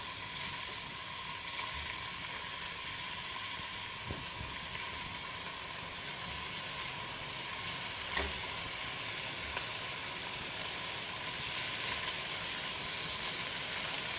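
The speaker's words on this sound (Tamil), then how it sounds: "எண்ணெயில் டீப் ஃப்ரை பண்ணக்கூடாது, லேசாக வறுத்து எடுக்கணும்." Paneer pieces lightly frying in a shallow layer of oil, giving a steady, even sizzle that continues throughout with no speech.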